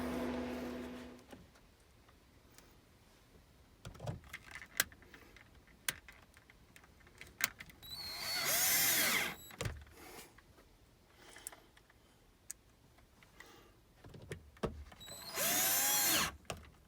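Power drill driving old square-drive screws into a replaced wall outlet, with two sustained whirring bursts near the end, separated by scattered clicks and taps of handling.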